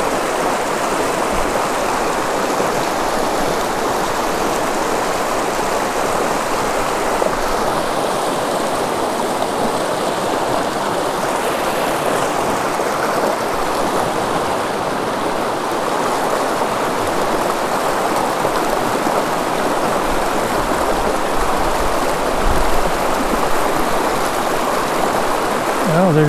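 A good-sized creek flows under a tight forest canopy, a loud, steady rushing and babbling that fills the whole stretch without a break.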